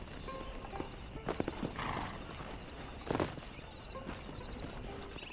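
Horse hooves clip-clop at a steady walking pace in the Wild West game Red Dead Redemption, close and fairly loud over a low ambient bed, with a brief whinny partway through.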